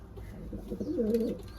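A pigeon coos in a soft, rolling burst near the end, close by and fairly quiet, with no talking.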